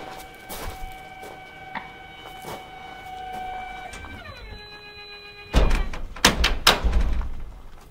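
Large shop doors driven by TOPENS automatic gate openers swing shut. A steady motor hum shifts pitch and stops, then the doors bang loudly several times at close range.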